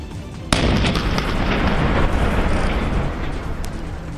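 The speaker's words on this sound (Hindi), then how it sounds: "आखिरकार जवानों ने उस मकान को धमाके से उड़ा दिया।" A house blown up with explosives by security forces: a sudden loud blast that rolls into a long, dense rumble of debris and noise lasting several seconds.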